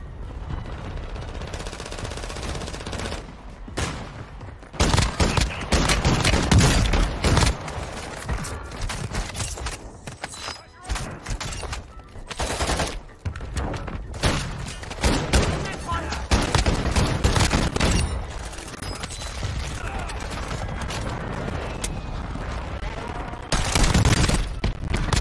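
Rapid bursts of submachine gun fire from a golden Vel in Warzone 2, loud and close, with repeated volleys and short pauses across the whole stretch, mixed with game effects and some talk.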